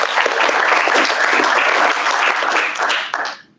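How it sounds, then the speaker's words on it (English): Dense, loud applause from an amateur radio club meeting audience, steady clapping filling the room before tapering off and fading out at the end. "Clap, clap, clap."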